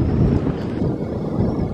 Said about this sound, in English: It's windy. I hope my microphone is doing a good job.